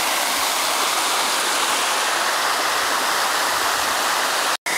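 A small waterfall with only a modest flow of water, giving a steady, close rushing hiss that fills the clip alone and breaks off for an instant near the end.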